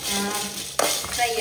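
Black peppercorns and fenugreek seeds frying in a hot pan while being stirred, a soft steady sizzle with a sharp scrape or clink of the spoon partway through, close up.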